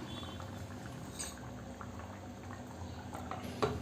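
Tomatoes and curry leaves simmer in a covered pan, giving a quiet, continuous bubbling with small scattered pops and a slightly sharper burble near the end.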